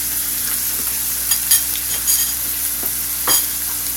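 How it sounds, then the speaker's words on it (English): Onion, scallion, garlic and thyme sautéing in a pan, a steady close sizzle with a few light stirring clicks and scrapes, no voices. "you just really want to quickly saute those"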